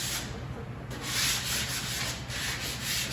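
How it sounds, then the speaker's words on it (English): A small sanding disc, 150 to 180 grit, grinding against the edge of a wooden door, a steady abrasive whir with a few brief surges as the pressure shifts, close by. "150 to 180 with a little sanding disc"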